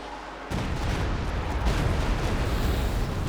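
A dense artillery barrage in Company of Heroes 2 bursts in abruptly and then rumbles on as a continuous roar of overlapping explosions, loud and sustained to the end with no talking.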